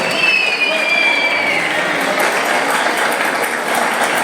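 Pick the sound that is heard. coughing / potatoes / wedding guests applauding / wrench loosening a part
wedding guests applauding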